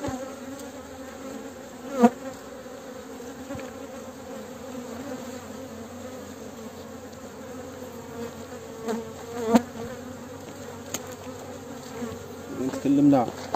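Honeybees swarming around a beehive make a steady, dense buzzing drone that fills the whole stretch, with a few louder knocks and handling noises nearby.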